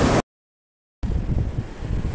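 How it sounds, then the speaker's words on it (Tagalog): Strong ocean waves pound a fishing spot during a storm, a loud roaring wash mixed with wind buffeting the microphone, broken by a brief silent dropout before the surge resumes. "Masyadong malakas guys ang alon"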